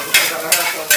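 Red fried rice (nasi goreng merah) stir-fried at a Makassar street stall, a spatula scraping the pan in three loud, sharp strokes over a steady background sizzle.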